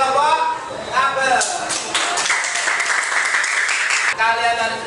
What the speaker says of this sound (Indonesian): tepuk tangan buat kelompok kabel